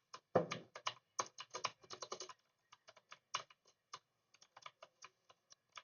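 Computer keyboard keys are pressed while someone plays Red Ball 4, close, crisp clicks in quick irregular bursts, then sparser single taps in a quiet room.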